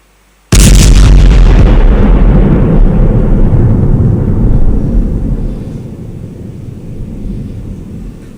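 A huge atomic-bomb blast effect from a science stage play: a sudden loud boom erupts after a brief silence, then rolls and rumbles heavily for several seconds before slowly fading.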